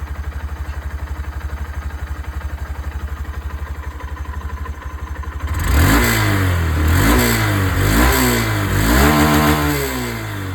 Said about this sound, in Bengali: এবার চলুন আপনাদেরকে আমি এখানে SP125 এর যে এক্সস্ট সাউন্ড, ওটা আপনাদেরকে শুনিয়ে দিই